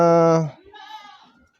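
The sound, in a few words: goat bleating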